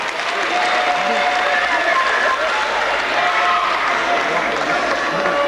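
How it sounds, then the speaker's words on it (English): A packed wrestling crowd at Southampton Guildhall cheers and applauds loudly and continuously, a dense roar with whistles and shouts. A commentator's voice sits under the noise. "listen to the response from this crowd"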